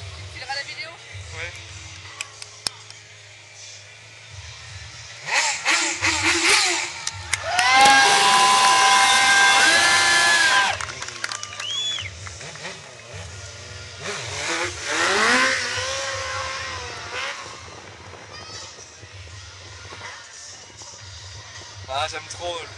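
A loud stunt motorcycle engine revs up and holds a high whine for several seconds amid a cheering crowd at a stunt show, with people talking and shouting nearby.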